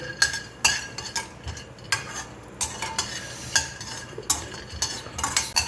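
Sesame seeds crackle and pop while roasting in a pan for a Brahmin-style huggi gojju, sharp irregular bursts recurring every half second or so, close and clear over a faint background hiss, with no talking.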